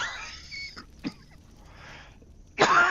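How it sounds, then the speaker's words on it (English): A woman coughs and clears her throat several times, with a soft hack near the start, a short sharp cough in the middle, and a louder, harsher cough near the end, spaced out over near silence. "Excuse me for the coughing."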